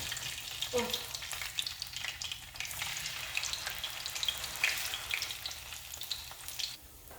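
Beer-battered tofu frying in a pan of oil, a steady close crackling sizzle that runs throughout, with faint scraping or stirring sounds and no talking.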